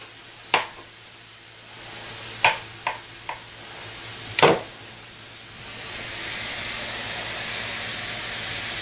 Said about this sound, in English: And you see how they're just sizzling?